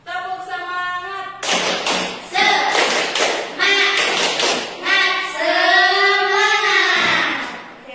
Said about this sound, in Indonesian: Kurang semangat, satu kali lagi ya. Tepuk semangat.